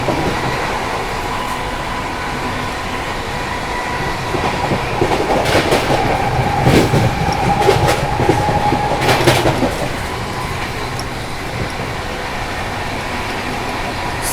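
Inside a 2AC coach, the Poorva Express from New Delhi to Howrah rumbles through Hathras Junction without stopping. A loud, steady rolling roar swells midway with sharper rail clatter, then settles back to an even drone.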